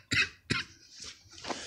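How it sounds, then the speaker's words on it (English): Two quick, close coughs from a man with bronchitis, followed by softer breathy throat sounds. "I'm tired of coughing in every video"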